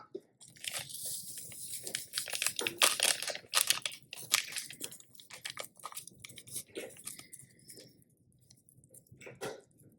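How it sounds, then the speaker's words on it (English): Packets of Sazon seasoning shaken and torn open for rice with sausage, a close crinkly rustle of foil-paper with crisp tearing crackles, loud at first then fading into sparse rustles, no speech. "the 2 packets of Sazon, shake them up. Make sure that all the seasoning gets on the bottom. Rip up the top."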